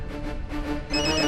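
A telephone rings as a call is placed to a grandmother, a steady repeating ring tone heard close and clear over a low background hum.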